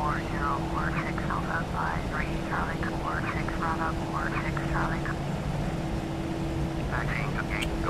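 Airbus A320 taxiing in the Flight Simulator X game, a steady engine drone with a constant whine held throughout, while a voice talks over it almost continuously.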